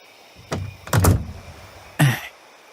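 A door thuds shut in a Filipino horror audio drama, with a couple of muffled bumps as it is pushed closed, then one firm, close knock-like closing thump near the end, over a quiet room.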